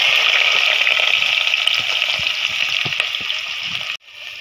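Onions going into hot oil set off a loud, steady frying sizzle that carries on continuously, then cuts off suddenly near the end and returns quieter.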